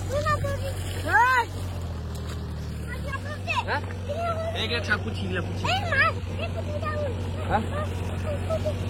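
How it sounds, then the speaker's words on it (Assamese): Tractor engine running in a flooded field during local fish catching, a steady low drone that shifts pitch briefly while people talk over it nearby. "ট্ৰেক্টৰ আহিছে নামছে ট্ৰেক্টৰৰ পিছত মাছ ধৰা"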